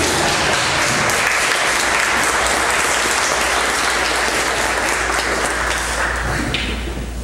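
A church congregation applauds in a strong, continuous burst of clapping that stays dense and even throughout, with a low hum beneath it, tapering slightly at the very end.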